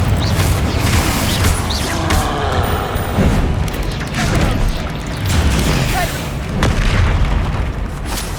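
Confringo blasting-spell explosions from the Hogwarts Legacy video game: repeated heavy booms and crashing impacts pound through a thick, continuous wash of combat noise.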